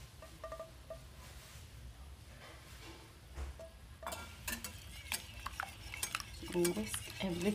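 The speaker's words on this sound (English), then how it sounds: "Whisk everything together." A whisk stirs eggs and mayonnaise in a bowl for a keto pancake, giving quiet clinking and scraping taps that grow busier and louder partway through, close by in a quiet kitchen.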